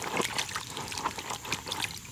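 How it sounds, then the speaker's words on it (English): Water poured over a CAT Threshold Rebound waterproof work boot, trickling and splashing off the leather in a steady, soft stream with small irregular patters, fairly quiet and close, with no one talking. "The water just beads right off."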